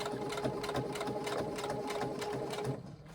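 A sewing machine stitches across the side seam of a carry-all tote bag, running in a steady fast whirr with faint rhythmic pulses before slowing and stopping near the end.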